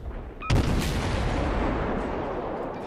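Naval guns fire in the video game World of Warships, aimed at a tier 7 American destroyer. A single heavy, close boom is followed by a long rumbling tail that slowly fades, with no one talking.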